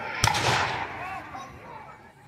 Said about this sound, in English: The American artillery is now firing on British cannon that have come onto the field at the other end.